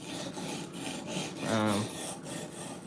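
An M4 knife blade is drawn across the stone of a guided sharpening system, giving a continuous close, gritty rasping with a faint rhythmic pulse and a brief tonal scrape midway.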